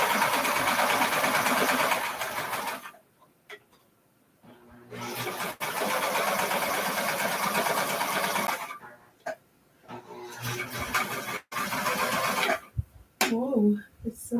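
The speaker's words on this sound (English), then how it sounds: "Making sure to cut off all these extra threads so they're sewn down with the serger." A serger sews down loose threads in several fast, loud, whirring bursts close by, separated by pauses, with a voice talking briefly near the end.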